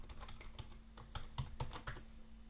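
Fingers type a password on a computer keyboard, a quick, uneven run of crisp key clicks about a dozen strong, close and fairly quiet against a steady electrical hum.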